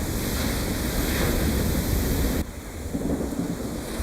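Violent storm-driven ocean water from a Baywatch storm scene roars and crashes as a loud, continuous broadband wash with thundery rumble, dipping briefly partway through before surging on, with no talking.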